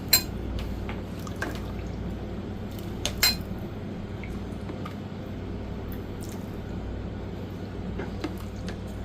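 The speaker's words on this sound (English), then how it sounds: "scoop some in a bowl here" Chicken and dumplings scooped into a bowl, with soft utensil scrapes, a couple of clinks and wet squishes over steady kitchen hum.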